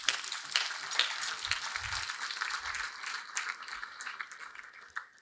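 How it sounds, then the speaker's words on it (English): Audience applause at the Gala for American Statecraft, a steady crowd of clapping filling the room, holding strong before slowly thinning out. "Please give them a round of applause."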